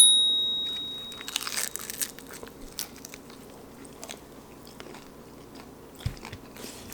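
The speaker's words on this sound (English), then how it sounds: "This is the crunchy beef taco." A few crisp, crunchy bites up close into a crunchy beef taco gone slightly soggy, followed by quieter chewing with short pauses between.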